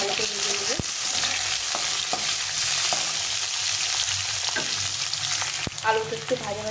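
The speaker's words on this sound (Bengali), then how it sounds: "প্রথমে আলুটা একটু ভালো করে ভেজে নেব।" Potatoes fry in hot oil in a pan for a chun fish chorchori, giving a dense, steady sizzle with occasional sharp spatula clinks as they are stirred, close up and uninterrupted by talk.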